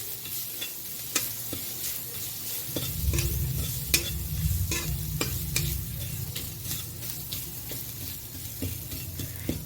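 Garlic sizzling in hot oil while being stirred for masala muri, a steady frying hiss with repeated sharp scrapes of a spoon against the pan, close and alone.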